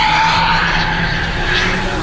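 A Ford Fiesta ST with a tuned aftermarket exhaust drives hard on a race track, its engine intake and exhaust roaring loud and close, with tyres squealing through a continuous, steady run.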